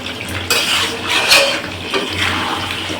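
Chicken kosha being stir-fried in a pan, a loud close clatter of a spoon working against metal over a hissing, watery sizzle, with repeated scraping strokes and no speech.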